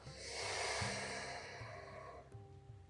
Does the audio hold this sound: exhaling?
yes